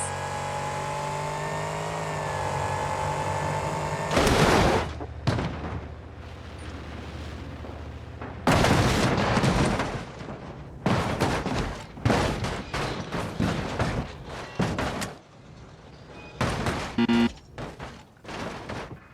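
Monster bus hurled to 600 mph in the BeamNG Drive video game: a steady engine drone, then a burst of heavy crashes and a long series of loud, clattering impacts and bangs.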